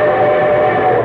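A loud train sound effect on a radio broadcast passes, a dense rumble with a sustained whistle-like tone riding over it, brief and continuous.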